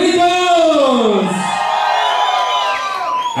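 A party crowd at a quinceañera shouts and cheers loudly, many voices whooping and bellowing together in a dense, sustained roar close by.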